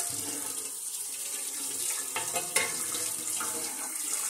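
Hot water pours steadily into a pot while strawberry wine is being made at home, a continuous splashing stream that stays fairly even and close, with a brief sharper splash partway through.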